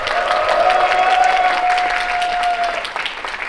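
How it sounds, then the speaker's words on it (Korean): Small-theatre concert audience applauding warmly, dense sustained clapping close by that fades slightly toward the end, with a tonal hum running underneath. "박수!"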